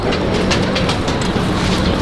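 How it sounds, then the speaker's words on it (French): A Paris metro train runs on its rails, a loud, continuous rumbling roar with rhythmic clattering, close by and steady throughout without voices. "Ça, c'est un métro, hein."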